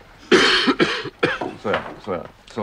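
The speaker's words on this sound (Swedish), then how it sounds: "Och där får du ett hostanfall." A coughing fit: a burst of several harsh, close coughs in quick succession, tapering into a few weaker throat-clearing rasps.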